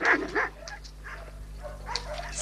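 A male dog in the taiga of Evenk country barks twice in quick succession, loud and close, then gives softer yips and whines while the sound fades.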